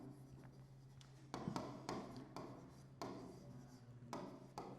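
A pen scratches on paper during an accounting lesson, with several distinct strokes and taps over a steady low background hum and no talking.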